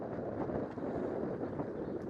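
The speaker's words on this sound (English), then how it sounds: "Quite windy up here" Wind blows across a microphone at a coastal lookout on the southern tip of an island, a constant broadband rushing buffet with no break and no voices.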